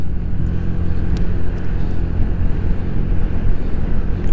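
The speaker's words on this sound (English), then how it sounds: "It's windy again too." Strong wind buffets the microphone while riding a Honda Navi, with loud, rumbling low gusts that rise and fall steadily, with no one speaking.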